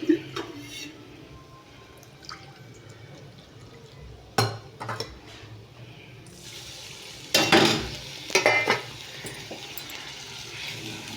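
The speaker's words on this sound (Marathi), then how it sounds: "असं हलवायचं" Gram flour batter is stirred in a pan, giving quiet scraping and liquid movement broken by a few louder clanks and knocks of the utensil against the pan.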